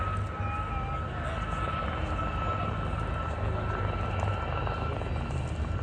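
Gazelle helicopters flying together in display formation at an air show, a steady, continuous rotor-and-turbine roar at moderate distance with no breaks.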